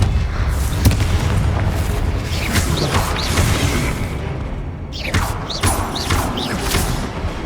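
Confringo blasting spells in Hogwarts Legacy, a video game, go off as loud booming explosions over a continuous game soundscape, with repeated blasts and crashing impacts throughout and a short drop in level partway through.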